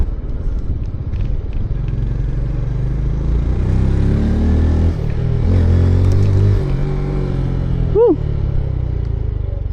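A small, light motorbike is ridden on a road, its engine a steady close rumble with wind noise throughout and a slight rise in revs partway through.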